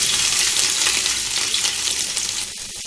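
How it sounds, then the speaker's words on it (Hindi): Ginger, garlic and chili paste frying in hot oil in a pan, a loud dense sizzle that holds steadily, then eases near the end with a few stirring clicks, no voices. "अभी अदरक लहसुन मिर्ची को अच्छे से भुनेंगे"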